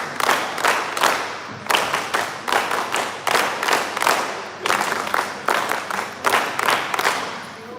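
An NSS audience at a West Bengal Republic Day camp event claps in a tight rhythmic pattern, repeated bursts of synchronized claps with brief pauses between groups, fairly close and clear, no talking over it.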